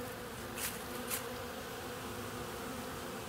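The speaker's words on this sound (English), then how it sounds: "I know they are buzzing." Honey bees buzz steadily at an active hive in winter, a continuous low hum holding even for the whole stretch, with two faint brighter swells early on.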